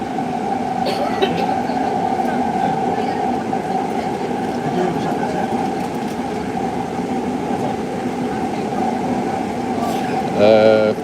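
A Warsaw metro train runs underground with a steady, loud rumble and a droning whine, the carriage noise holding constant before a brief rattling swell near the end.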